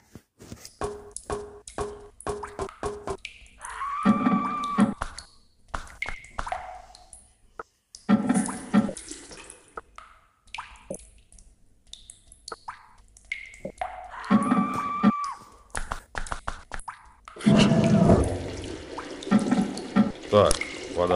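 A water tap running in a pipe-themed quest game ('Full Pipe'), splashing and trickling in several separate stretches between pauses, mixed with a voice talking.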